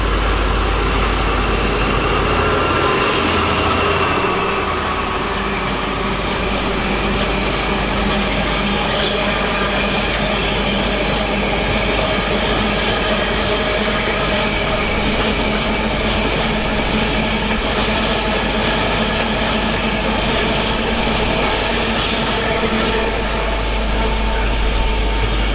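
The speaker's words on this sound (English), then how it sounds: "This is the Freightliner and it is 66614." A Freightliner Class 66 diesel freight train, locomotive 66614, passes at Stafford on the West Coast Main Line, giving a loud, steady roar of engine and rolling wagons that holds for the whole stretch with continuous rail clatter.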